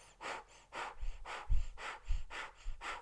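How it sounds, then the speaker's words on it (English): Rapid breath-of-fire belly breathing through an O-shaped mouth, a steady run of about six sharp, close exhale-inhale bursts in quick even rhythm, with no talking. "breath of fire comes from the navel point, and it's a rapid inhale and exhale."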